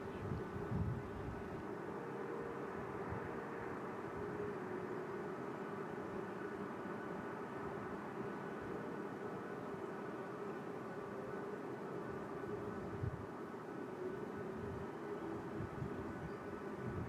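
KC-135 jet tanker at the 2022 Selfridge air show, a steady broad roar of jet engine noise that holds at an even level throughout, sounding distant and continuous with no talk over it.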